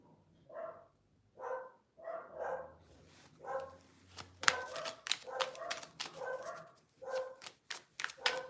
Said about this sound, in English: You can hear my dogs in the back.